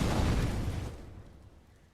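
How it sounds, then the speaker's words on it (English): A grenade blast in Counter-Strike on the Inferno map, one muffled boom with a deep rumble that swells at the start and slowly decays over two seconds, heard alone at moderate volume. "Nades coming through and towards Logs."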